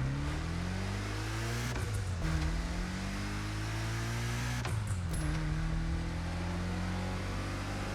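A 1955 Porsche 550 Spyder in the racing game The Crew Motorfest accelerates hard, its engine revving up through rising tones with two brief gear-shift dips, loud and close throughout with no talk.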